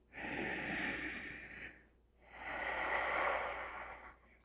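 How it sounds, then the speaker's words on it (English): Two long, deep breaths during a yoga hold, a slow airy inhale and then a full exhale with a short gap between them, close and soft, with no talking. "One more breath."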